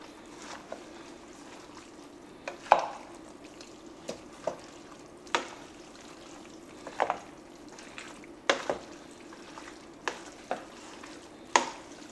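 Vegetables and drained olives being stirred in a pan for chicken timballo, heard as a soft, steady background hiss broken by about a dozen irregular scraping and clacking spoon strokes, close and moderately quiet, with no talking.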